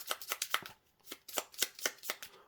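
A deck of cards from The Breach board game shuffled by hand, a fast, quiet series of riffling flicks in two short bursts, close to the microphone with no talking.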